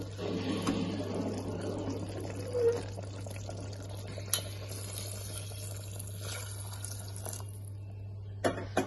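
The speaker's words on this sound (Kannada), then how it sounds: "ಇದಕ್ಕೆ ಈಗ ನಾನು ನಾನು ಬಿಸಿನೀರು ಆ್ಯಡ್ ಮಾಡ್ತೀನಿ" Hot water poured into rice for biryani, a soft continuous splashing pour over a steady low hum, with a few small clinks toward the end.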